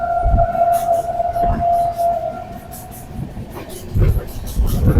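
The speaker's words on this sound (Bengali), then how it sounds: "আমাদের ট্রেন এখন শিয়ালদাতে" Duronto Express train 22201 on the Sealdah to Puri run, a steady rumble of the moving train with a sustained tonal whine from the rails and occasional thumps of the wheels, heard from inside.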